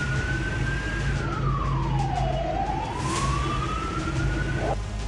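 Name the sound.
sirens of tanks moving in the streets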